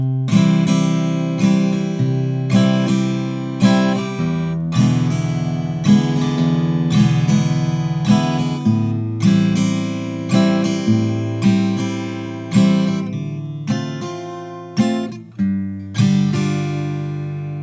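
Guitar plays a song's chorus in a swung rhythm, thumbed bass notes alternating with strummed chords in a steady, close, unaccompanied pattern.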